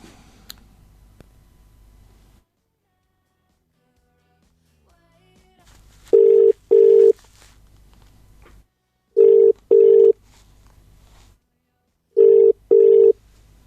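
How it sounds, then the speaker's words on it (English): A telephone rings on a live radio call, heard as three loud pairs of short ringback tones at regular intervals after a quiet line. "what I'm going to do now is I'm going to phone live on air Aaron Ironside"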